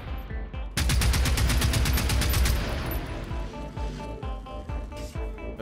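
Generation Zero video game gunfire: a rapid, loud string of automatic shots fired at attacking robots, followed by scattered single shots and impacts that thin out over the remaining seconds.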